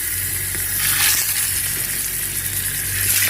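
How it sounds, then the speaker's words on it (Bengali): Fish frying in a pan in a village kitchen, a loud continuous sizzle and crackle close by with occasional brighter spits, steady throughout and without speech. "মাছটা ফ্রাই করে নিচ্ছি"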